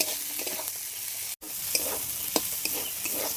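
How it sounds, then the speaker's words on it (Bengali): A spatula stirs chicken masala with green chilies in a hot pan, with a steady close sizzle and a few soft scraping clicks against the metal. No one speaks. "ভালো করে খুন্তি দিয়ে আমি মিক্স করে নেব।"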